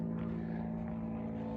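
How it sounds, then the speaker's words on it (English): A faint, steady drone of an airplane passing far overhead, a low continuous rumble with no other sounds standing out. "An airplane."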